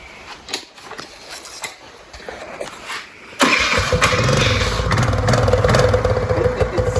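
A modified Suzuki Z50 minibike engine cranks with a few clicks and sputters, then fires up into a loud, close, steady rattling idle and rev with no talking.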